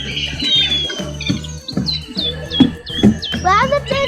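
Birds calling near the bird house at Werribee Open Range Zoo, repeated bright chirps and whistled tweets at a moderate distance, mixed with people and someone talking.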